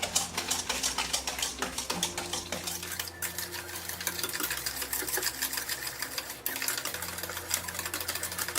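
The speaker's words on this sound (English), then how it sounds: "And then I'm going to whisk together." Pumpkin bread pudding ingredients are whisked together in a bowl, making a fast, continuous rattling clatter that stays close and fairly even throughout, with no voices over it.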